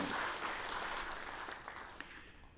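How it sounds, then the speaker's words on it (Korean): A church congregation claps in encouragement at a special dawn prayer service, a steady wash of applause that starts full and slowly fades over a couple of seconds, with no talk. "우리 격려 박수 한번 하겠습니다"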